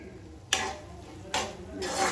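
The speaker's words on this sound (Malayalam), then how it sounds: "നമ്മൾ നന്നായിട്ട് മിക്സ് ചെയ്ത് കൊടുക്കുവാണേ" Egg mixture being stirred and mixed in a pot or bowl during home cooking, three distinct scraping, rasping strokes spaced apart, close and fairly soft, with no talking.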